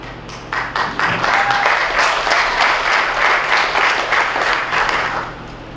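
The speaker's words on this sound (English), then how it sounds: "Yeah, that does deserve applause." Audience applause from a live talk event, with sustained clapping building quickly after a brief pause and holding steady and loud for several seconds before tapering at the end.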